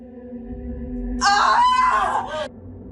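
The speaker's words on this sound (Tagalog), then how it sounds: "marinig naming sumigaw ng malakas ang nanay niyang si Aling Pasing sa labas" A woman screams loudly outdoors in a horror story, one sustained piercing shriek lasting about a second over a low droning music bed that fades after she stops.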